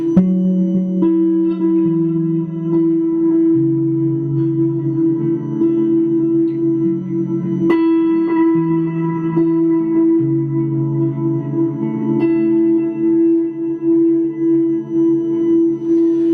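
Slow electric guitar notes ring with lush reverb and echoing repeats, plucks blending into a dense, shimmering ambient wash with no talking.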